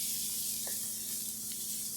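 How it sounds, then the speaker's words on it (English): Onions dropped into a hot, dry pan with no oil sizzle in a steady, bright hiss that runs unbroken and fairly loud, with a couple of faint pops. "And you hear that sizzle, that's how you know it's hot enough."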